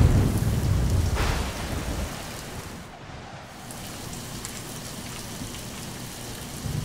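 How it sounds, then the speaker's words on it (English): Steady rain pours down outdoors on a rainy day in Bali, a dense wash of falling water with a brief lull midway, no voices. "What's the weather like today? Rainy."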